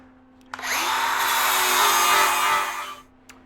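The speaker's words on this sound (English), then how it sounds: "Now I gotta grind this weld down to make it look good." An angle grinder grinds down a steel weld on a fabricated firewood bundler in one loud, steady pass of about two and a half seconds. The sound starts abruptly, holds a high whine, then winds down.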